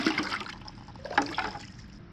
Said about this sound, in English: I'm going to take my bucket and fill it with water